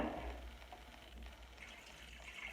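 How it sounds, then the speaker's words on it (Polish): Water, 200 g of it, poured into a Thermomix bowl while making onion rolls: a faint, steady trickling rush that runs for the whole moment with no voices. "Po lekkim ostudzeniu dodajemy 200 g wody"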